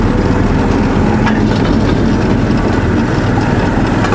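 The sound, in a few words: narrow-gauge railway train moving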